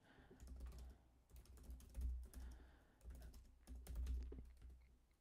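A computer keyboard's Tab key is pressed several times, giving soft, faint keystroke clicks in small clusters at an irregular pace.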